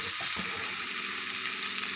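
Fried gobi (cauliflower) sizzles steadily in gravy in a pan while being stirred, giving a dense, close hiss with soft scraping stirs underneath for the whole stretch.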